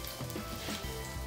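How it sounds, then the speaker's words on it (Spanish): Bread and garlic fry slowly in a pan for a beef dish, giving a close, continuous soft sizzle with no talk. "Vamos haciendo nuestro pan, que se vaya friendo poquito a poco, y nuestro ajo para que le dé sabor"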